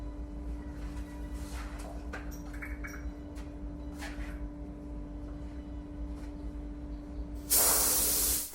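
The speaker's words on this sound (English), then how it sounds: "Change the mouth of spray gun vertically or horizontally depending on how you are going to spray." After a quiet stretch with faint clicks and a low hum, a spray gun lets out one loud, steady hiss of paint onto MDF furniture lasting about a second.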